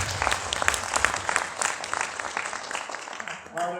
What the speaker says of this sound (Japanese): 拍手しましょう。